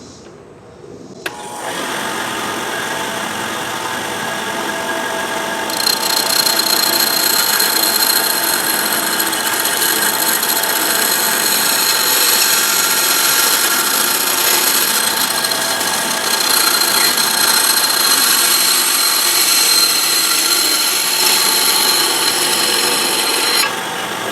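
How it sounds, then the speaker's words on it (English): A bandsaw makes a straight rip cut along a fence, motor whirring up loud and steady before the blade bites in and a bright, sustained cutting whine carries through to the end. "I've got the rip fence set up on the bandsaw. I'm going to try to make as straight of a cut as I possibly can."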